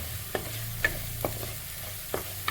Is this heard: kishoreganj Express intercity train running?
no